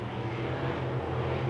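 Propeller airplane flying over a dirt-track race for midwest modified cars, a steady low drone holding constant throughout, alone with no voices.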